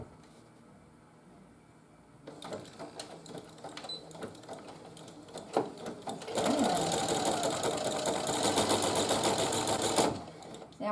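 A sewing machine back stitching through a quilt-as-you-go table runner starts with slower, uneven stitching, then runs at full speed in a steady, fast mechanical whir before stopping abruptly. The sound is close and clear.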